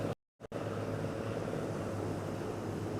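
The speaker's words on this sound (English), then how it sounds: "we have a couple of planes here overhead" A couple of airplanes fly overhead at a Florida beach, a steady broadband engine drone that holds evenly after a brief dropout at the start, moderately distant and unaccompanied by talk.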